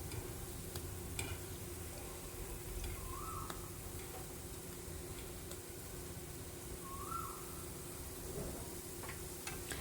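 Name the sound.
frying in ghee until golden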